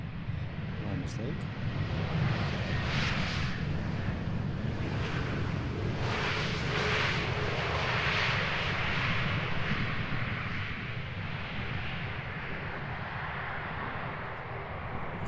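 An Airbus A321neo airliner at Schiphol Airport in Amsterdam, a loud, continuous broadband engine roar with wind rumble, steady throughout with no breaks.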